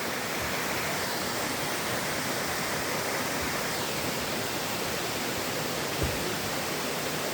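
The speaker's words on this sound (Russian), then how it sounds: "Вот водопад." Dzhur-Dzhur waterfall in Crimea, heard up close as a steady, loud, broadband roar of falling water that stays constant throughout with no voices.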